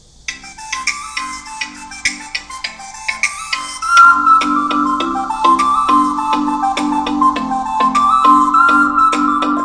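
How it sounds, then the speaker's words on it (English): A Cork 2 Bluetooth speaker sitting on a table plays a tinkly, bell-like tune, lighter at first and then fuller with a throbbing low bass line joining about midway, steady and close without any voices. "This is the sound of the Cork 2 on a table."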